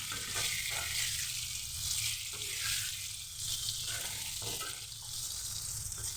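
Indian olive pickle fries in mustard oil with salt, turmeric, panch phoron, cumin and coriander powder, giving a continuous close sizzle with soft stirring sounds swelling and easing.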